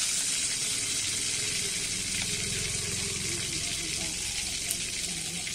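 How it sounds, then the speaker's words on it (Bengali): Whole dried red chillies and black cumin sizzle in hot oil, a steady bright hiss that holds evenly throughout with a faint low murmur beneath. "ওই তেলের মধ্যে দুটো আমি কিন্তু গোটা শুকনো লঙ্কা ফোড়নে দিয়ে দেবো। দিয়ে দেবো কালো জিরে"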